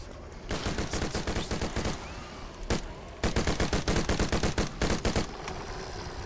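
Airburst Tremor assault rifle in the Dead Frontier 2 video game firing loud, rapid automatic bursts, with two long strings of shots broken by a short pause and a single isolated shot.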